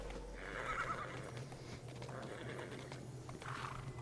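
A horse neighs in the fantasy video game Tiny Tina's Wonderlands, a few faint whinnies over a low steady game ambience.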